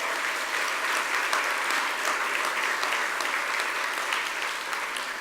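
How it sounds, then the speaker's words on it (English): Steady, dense applause from a large audience at an award ceremony, sustained and even throughout with no pauses, filling the hall at close range. "give them a round of applause"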